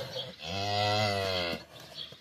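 A calf on a cattle farm lets out a single close, drawn-out moo lasting about a second, with faint background noise before and after.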